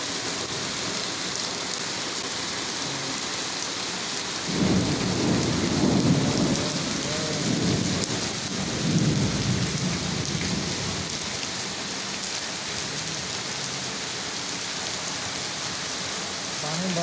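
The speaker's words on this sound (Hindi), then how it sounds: "बहुत बारिश है यार, बहुत ज़्यादा बारिश है" Heavy, steady rain pours down in Lahore, with low rumbling thunder rolling in twice around the middle of the clip over the constant hiss of the downpour.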